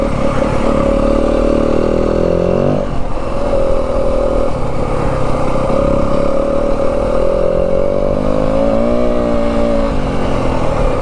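A 2025 Yamaha WR250F dirt bike fitted with a G2 throttle tamer revs steadily while ridden in the snowy Dragoon Mountains near Pearce, Arizona, its engine note loud and close, dipping and climbing around the midpoint and again near the end, with no talk.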